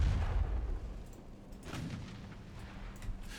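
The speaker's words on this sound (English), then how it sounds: "Possible second torpedo launch." Torpedo launch in the naval strategy game Ultimate Admiral Dreadnoughts: a deep, muffled boom at the start that settles into a low, steady rumble, with no voices.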